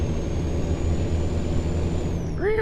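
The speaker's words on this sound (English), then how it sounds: "Jake brakes." A Kenworth T660 in American Truck Simulator lets out a steady, low engine-brake rumble that stays constant and loud throughout, with no one speaking.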